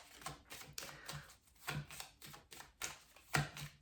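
Tarot cards are shuffled by hand with a steady run of soft, rapid riffling flicks in short repeated bursts. The sound is close but faint, with no voices.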